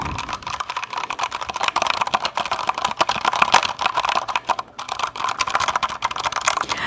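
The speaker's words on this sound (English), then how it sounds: "To me, this keyboard tapping does not sound that great" A computer keyboard is tapped rapidly and continuously at close range, with quick, uneven clicks and clatter running for about seven seconds and no voices.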